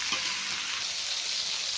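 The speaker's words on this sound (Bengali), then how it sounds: "এটা তেল দিয়ে পেঁয়াজ দিয়ে ভাজতে হবে" Brinjal and onions fry in oil with a steady, close crackling sizzle and a few faint stirring scrapes, no voices present.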